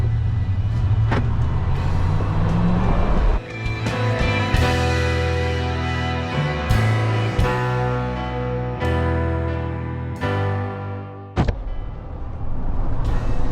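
A 2016 Ram 1500 pickup with a 5.7 Hemi V8 driving, its engine rumbling and revving up through several gear shifts, with brief dips between pulls, loud and close with no talk.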